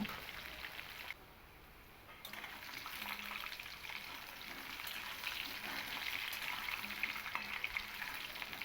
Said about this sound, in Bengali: প্রথমেই আমি আলুগুলোকে একটু ভেজে নেব আলুগুলোকে দিয়ে দিয়েছি এবার আলুগুলোকে হালকা করে একটু ভেজে নেব